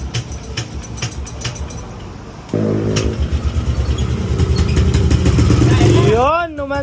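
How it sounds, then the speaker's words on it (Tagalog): A Yamaha Aerox V2 scooter with a 195cc engine starts after a few seconds of quiet street noise, then settles into a loud, close idle and revs rising and falling, while people talk nearby. "Ayan, kaya start lang ng motor. Naglalambing lang. Aerox B2 195cc."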